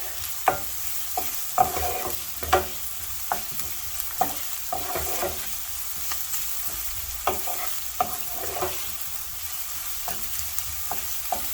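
Food is stirred and sautéed in a pan while making spicy cheese masala macaroni, with a constant soft sizzle and repeated scraping, clicking strokes of the spoon at an irregular rhythm.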